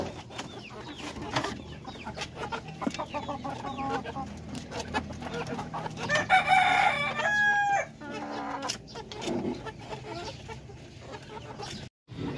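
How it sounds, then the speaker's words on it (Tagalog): Native darag rooster crowing among clucking chickens at a Filipino farm: a clear crow rises in the middle of steady nearby clucking and rustling outdoor background noise, moderately close, with no speech. "So, meron tayo isang darag dito na rooster."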